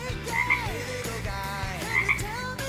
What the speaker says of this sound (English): Hate that obscene frog all you want